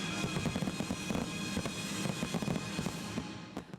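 Fireworks at a city display in Torrance go off in a fairly faint, continuous crackling run of bursts and pops heard from a distance, with no talk over them.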